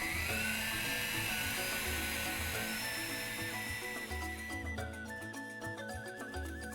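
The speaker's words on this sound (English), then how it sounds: "drill it out with a hand drill." A hand drill whines continuously at high pitch while drilling a screw hole for a swivel stud, its motor droning steadily and shifting slightly as it bites into material, close and fairly loud.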